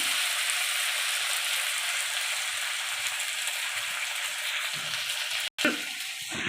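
Shrimp and banana sizzle steadily in a hot pan, a loud, continuous frying hiss that cuts out for a moment near the end before resuming.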